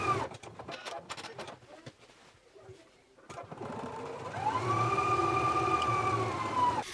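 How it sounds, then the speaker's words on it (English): A sewing machine runs a steady, droning stitch along a 5/8 inch seam allowance joining a utility jacket's yoke lining at the shoulder, preceded by a few scattered handling clicks and then holding an even motor whine for several seconds. "take it to the machine and stitch in a 5/8 of an inch seam allowance."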